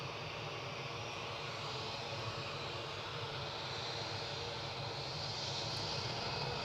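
A British Airways airliner on the runway at Newcastle airport gives a steady, loud engine roar that holds throughout, close by and unbroken, with no talk over it.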